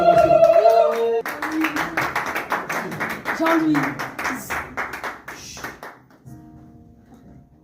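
A church congregation claps to welcome a minister named Jean-Louis during a French-language worship service, a burst of hand claps following a brief spoken announcement, then tapering off into quieter talk.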